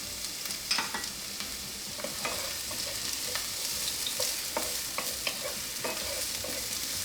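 Onion sautéing in hot oil for a Filipino-style shrimp curry, giving a steady, close sizzle broken by scraping stirs and light clinks, with no voices.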